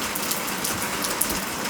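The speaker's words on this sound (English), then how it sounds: "Alright, it's raining." Steady rain falls in South Australia near a houseboat on the Murray River, a dense, even hiss of drops hitting surfaces with a few brighter patters, close and continuous with no voices.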